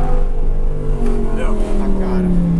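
Audi R8 engine revving and accelerating from inside the car, a loud steady rising drone with pitch sweeps, mixed with people talking.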